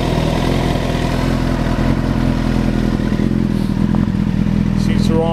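A 2014 Suzuki GSX-R1000 sport motorcycle idles close by, its engine and exhaust giving a loud, steady mechanical burble with light clatter that continues unbroken, while a voice speaks over it.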